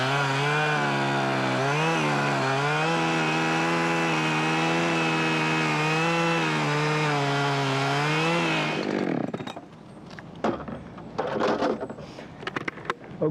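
Chainsaw making the back cut while felling a tree, a loud close engine snarl held steady for about nine seconds before cutting off, followed by scattered knocks and rustles.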